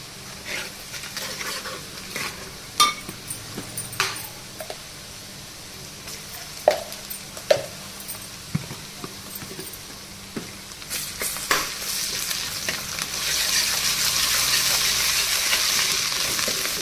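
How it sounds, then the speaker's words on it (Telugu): Onions, ginger and garlic fry in oil for a potato curry, with scattered clinks and scrapes of stirring followed by a rising, steady sizzle toward the end. "అల్లం ఎల్లిగడ్డ కూడా బాగా వేగాలి."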